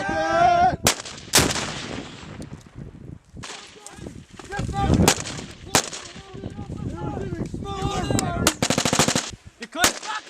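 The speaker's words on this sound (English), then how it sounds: "Fire from a medium machine gun." Live-fire exercise with US Marines and Australian Army: loud, sharp bursts of medium machine gun fire and rocket blasts crack out repeatedly, separated by brief gaps, with voices shouting in between.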